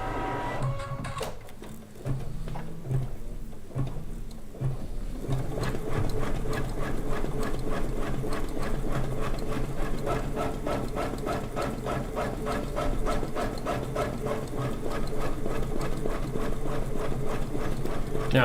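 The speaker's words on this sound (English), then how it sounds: "I'm going to press the start button, and it is going to stitch out. It's going to do a basting stitch." Embroidery machine stitching out a basting stitch, starting with a few beeps and clicks, then settling into a fast, steady, rhythmic mechanical chatter that runs on continuously at close range.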